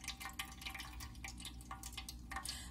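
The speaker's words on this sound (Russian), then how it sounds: "Поднимаем орхидейку, вся водичка стекает." Water running and dripping out of a lifted orchid pot right after watering, a quiet, close trickle with irregular drips and splashes, no voices.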